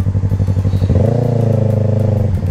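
A Suzuki Bandit 600 motorcycle ridden at night, its engine loud and close with a throbbing idle that rises into a steady revving drone.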